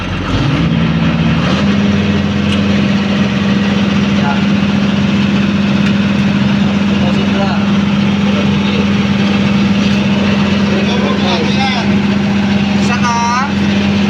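An MTS generator engine runs steadily at a loud, even idle throughout, its tone shifting slightly early on as revs settle, with faint clicks on top.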